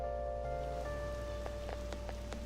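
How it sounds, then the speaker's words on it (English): Rain falls steadily in Persona 5 Royal, a constant soft patter with scattered drop ticks, layered over sustained tonal background music. "I heard the rain front is gonna stagnate here for a while."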